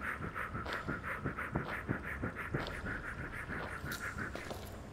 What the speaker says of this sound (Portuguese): Olha, respirando.